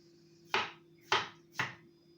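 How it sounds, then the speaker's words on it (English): A knife chops through watermelon on a board three times, each one a crisp, close thud at an even pace, with quiet pauses between cuts. "I'm cutting up in small pieces and I'm adding it to the melons were already being cut"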